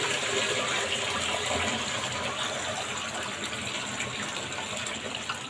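Water from a balloon pours and gushes steadily into a bucket, a constant splashing rush at moderate volume with no voices.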